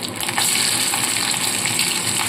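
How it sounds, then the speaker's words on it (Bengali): Ginger dropped into hot oil for an aar fish curry sputters with a loud, dense, continuous hiss and crackle, close up and without any talk. "তেলের মধ্যে আদা দিলেই কিন্তু প্রচণ্ড ফাটতে থাকে"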